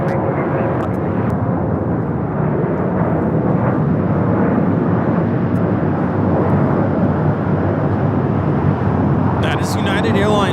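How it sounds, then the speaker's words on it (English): A United Airlines Boeing 737-800 taking off from LAX, bound for Puerto Vallarta: a loud, steady, broadband jet roar that fills the whole stretch without letting up, with a brief voice near the end. "That is United Airlines 319 taking off to Puerto Vallarta on the 737-800"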